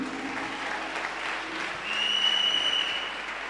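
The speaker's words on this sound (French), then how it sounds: "Acclame Jésus." A church congregation claps in a steady, dense burst of applause that swells slightly toward the end, filling the room with sustained clapping throughout.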